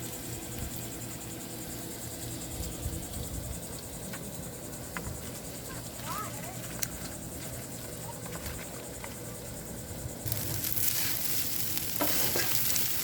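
Shrimp and pork teriyaki frying on camp stones outdoors, a steady close sizzle with occasional stirring, crickets chirping in the background, and the sizzle growing louder near the end.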